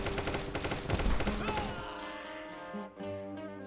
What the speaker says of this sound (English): there's my Gatling gun